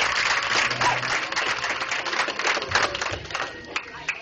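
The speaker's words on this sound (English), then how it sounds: "Let's get a round of applause, everybody." Wedding guests applaud together, a busy wash of claps at moderate level with scattered cheers and crowd voices, holding steady over several seconds.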